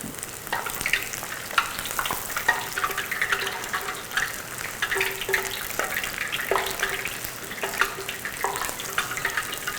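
Eggplant pieces deep-frying in hot oil for nasu suage, giving a steady close sizzle and crackle with occasional clinks and stirring noises throughout.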